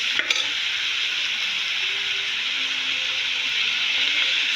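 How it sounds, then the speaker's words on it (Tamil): Chicken is stir-fried with onions and chillies, giving a bright continuous sizzle close by with a couple of quick utensil knocks at the start. "அடுத்து சிக்கனை வந்து நல்லா பிரட்டிக்கிறோம்."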